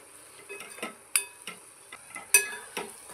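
Masala sizzling in oil in a pan for street-style egg bhurji, a soft steady fry broken by sharp metallic taps and scrapes of a spatula stirring at an uneven rhythm.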